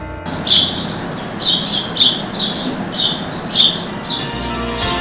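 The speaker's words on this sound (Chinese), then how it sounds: "鸟叫声敲醒早晨，新鲜空气赶走睡意。" Birds call repeatedly in short, bright squawking bursts at a steady pace, fairly close, over a soft outdoor background hum, on a mountain in the morning.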